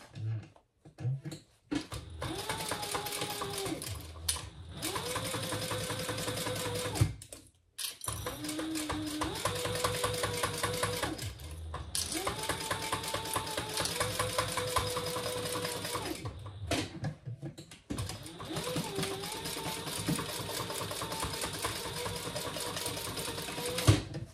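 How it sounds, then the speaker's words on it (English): A sewing machine stitches down the sides of a tote bag in several steady bursts of rapid mechanical chatter, each run stopping briefly before starting again, close and loud throughout. "All right, let's sew down each side."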